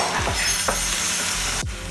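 Tomatoes fry in a pan with ginger garlic paste, onion and chillies, a loud steady sizzle broken by a few scraping stirs of a spoon, close up and without talk.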